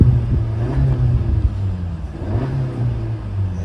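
A 2017 Honda Civic turbo engine revs in neutral, a mid-pitched rumble that rises and falls in two swells over a steady idle, close and fairly loud with no talking.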